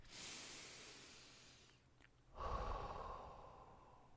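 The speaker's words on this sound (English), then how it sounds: "just take a deep breath" One deep breath drawn in slowly and then let out in a long, audible exhale, close up and soft, with a brief pause between the inhale and the release.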